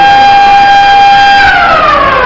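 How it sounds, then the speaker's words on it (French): A school siren sounds on a Tuesday morning at a secondary school, a loud steady wailing tone that holds level and then slides downward near the end, with no voices heard. "Lorsque la sirène retentit ce mardi matin"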